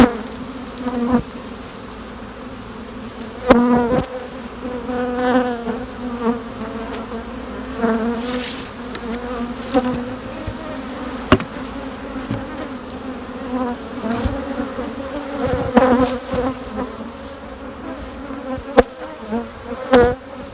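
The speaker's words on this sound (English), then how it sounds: "Now we have a lot of bees" A dense swarm of bees drones steadily around hives during a bee rescue, a continuous close buzzing with swelling and fading layers and occasional sharp knocks.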